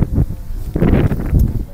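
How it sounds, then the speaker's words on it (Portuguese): Wind buffets a microphone outdoors in heavy, uneven gusts, a loud low rumbling roar that swells and fades over the short stretch. "Deixa eu abaixar um pouco aqui, porque tá muito vento"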